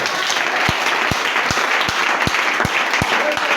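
A church congregation applauds a preacher with steady rhythmic clapping, a loud crowd keeping an even beat of about three claps per second throughout.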